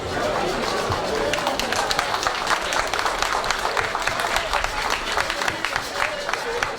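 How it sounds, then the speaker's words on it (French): Loud, sustained applause from a crowd at a UNSA Éducation gathering, dense clapping running steadily throughout with voices and chatter mixed in. "vraiment des autres applaudissements très fort même"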